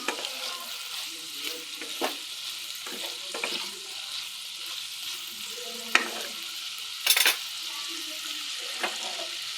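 Potato and cauliflower frying in a pan, a steady soft sizzle broken by repeated scraping stirs and a few utensil knocks against the pan, close by.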